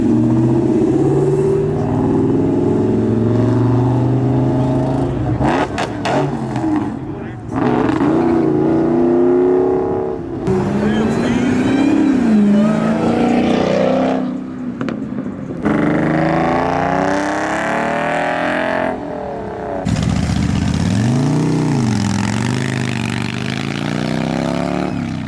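Modified Dodge with a supercharged V8 accelerating hard away from a car show in Dallas, loud and close, with revving bursts, gear changes and surging engine roar across the whole stretch.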